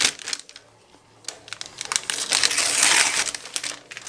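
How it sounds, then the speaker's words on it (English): Body piercing equipment packaging being peeled open close up, crisp crinkling and crackling plastic and paper in irregular bursts, building into a sustained dense tearing rustle toward the end, no talk. "At this point, we begin to peel and open the packaging."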